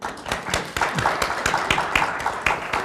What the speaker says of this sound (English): Can we hear by noise, by clapping here?